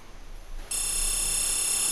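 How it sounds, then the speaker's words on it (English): A Garmin Fenix watch alarm goes off, a steady high-pitched electronic tone starting suddenly after a short quiet stretch and continuing without pause, close and clear with no talking. "So that goes off, and then there's a snooze function available as well."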